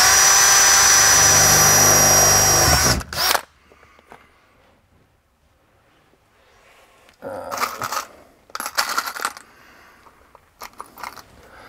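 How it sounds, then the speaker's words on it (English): A power drill bores pilot holes for rear seat belt mounts in a VW T3 camper van, a loud steady whine at first, then after a pause several short bursts of drilling with rattling in between. "we're gonna drill those pilot holes now"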